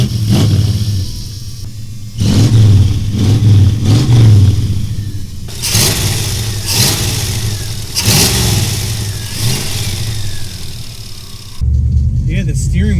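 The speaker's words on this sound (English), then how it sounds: "Nothing sounds as good as a small block Ford." A 1966 Ford Mustang with a small-block 302 V8 revs on a driveway, deep rumbling blips rising and falling several times between idle stretches, loud and close, with people talking over it.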